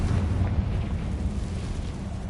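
In Hogwarts Legacy, a Confringo spell sets off a deep, rumbling explosion, a heavy low boom that rolls on steadily without sharp peaks, moderately loud and unaccompanied by talk.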